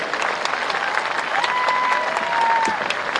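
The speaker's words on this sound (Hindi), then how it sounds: "मारुति वीर जवान ट्रस्ट का एक बार अभिनंदन हाथ उठाकर तालियां बजाकर किया जाना चाहिए" Applause rings out at a ceremony honouring martyrs' families with India's defence minister, steady clapping from a large gathering, moderately loud with a faint whistle-like tone drifting through.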